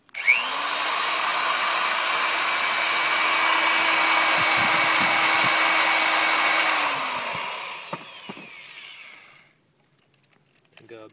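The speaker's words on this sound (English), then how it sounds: "and start drilling." A steady, loud power drill whines continuously for about seven seconds boring into an oak log, then winds down and stops, followed by faint clatter and handling noises.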